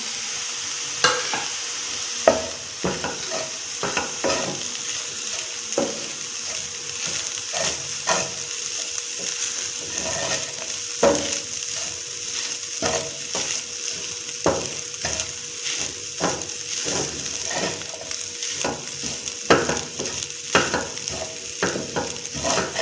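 Qeema frying in a pan with spices stirred in, a steady close sizzle with repeated scraping and clinking strokes of a utensil against the pan, continuous and without voices.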